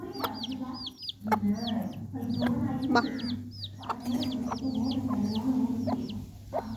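Hens cluck repeatedly and close by, a busy overlapping chatter of short calls over a low steady background hum.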